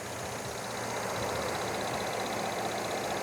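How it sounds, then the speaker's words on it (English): A 2013 Mercedes W212 E 350 Sport with 13,000 miles idles with the hood up, a quiet, smooth, even hum with a faint steady high whine, no other sounds. "Idle super smooth, very quiet"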